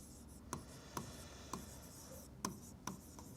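Pen or chalk writing out a geometry solution on paper or a board, heard as a series of short, sharp taps and scratches at irregular intervals, close and fairly faint, with no talking.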